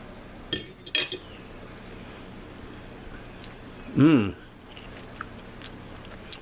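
Chewing a bite of lamb plov with carrot and rice: a few soft clinks of cutlery early, then quiet close mouth sounds, with a brief voiced murmur partway through.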